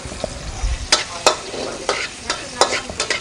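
Garlic fries in oil in a pan for afritada, a steady sizzle punctuated by regular sharp scrapes and taps of a stirring utensil, close and distinct.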